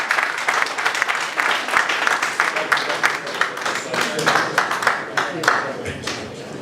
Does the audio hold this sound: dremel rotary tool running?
no